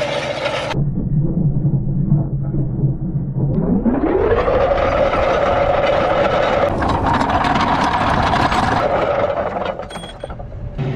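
A T7-200 tractor engine runs loud and close, droning low, then revving up to a higher steady whir with mechanical rattling, and easing off near the end.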